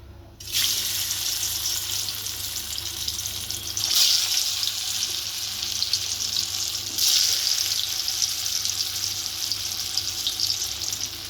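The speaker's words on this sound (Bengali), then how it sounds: "এবার আমি একে একে ধোকাগুলো ভাজতে দিয়ে দেবো" Dhoka lentil cakes drop one by one into hot oil in a wok, a continuous bubbling sizzle that swells in bursts as each piece goes in.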